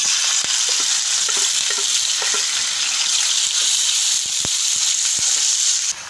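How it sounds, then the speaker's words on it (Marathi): Ground masala paste frying in oil for dry mutton, a constant bright sizzle with small scattered crackles and spoon taps throughout. "आता आपल्याला हे चांगलं तेल सुटेपर्यंत परतून घ्यायचंय आहे"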